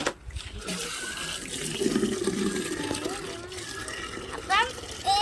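Water runs and splashes as it is poured onto plants, a steady trickling flow in the middle of the clip with some louder splashy bursts near the end.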